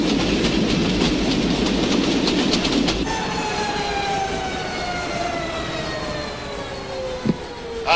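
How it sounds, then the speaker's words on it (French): A train rolls along the rails with a loud steady rumble and rhythmic clatter, and a long high screech sweeps down over the noise as it travels on. "Le train de la mort poursuit sa route en direction de la Turquie."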